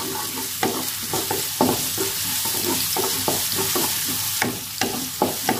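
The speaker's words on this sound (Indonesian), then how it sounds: "Ini kita tumis sampai si bawangnya harum." Chopped shallots and garlic sautéed in a pan, a loud close sizzle broken by regular scraping strokes of a spatula stirring them around.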